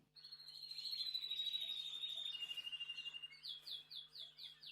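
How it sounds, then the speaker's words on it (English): Birds chirp and sing in a story scene on a farm, starting with a long descending whistle and ending in a rapid run of short repeated chirps, clear and close with no talk. "The birds started singing."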